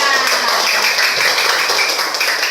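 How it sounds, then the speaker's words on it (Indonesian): Students in a teaching practice class give themselves a round of applause, a dense, continuous clatter of many hands clapping at once, fairly loud and close. "tepuk tangan buat kita semua"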